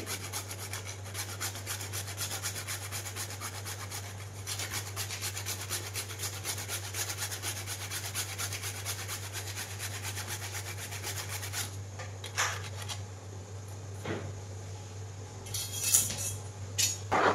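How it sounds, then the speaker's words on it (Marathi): Whole nutmeg being grated for a ghee-enriched dough: steady, continuous rasping scrapes close by, running in a dense rhythm for most of the stretch before giving way to a few scattered light clinks and taps, with no talking. "आणि ना माझ्याकडे आता हे जायफळ आहे ते थोडंसं असं खिसून घेते"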